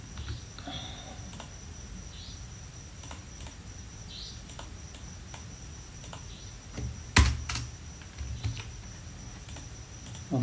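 Code is typed on a computer keyboard in sparse, soft keystrokes over a faint room hum. A brief, louder cluster of clicks comes near the end.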